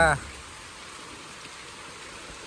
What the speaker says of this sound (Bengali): এই বছরের প্রথম বৃষ্টি দেখা